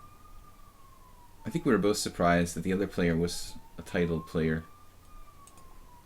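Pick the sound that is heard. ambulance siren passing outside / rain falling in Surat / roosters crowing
ambulance siren passing outside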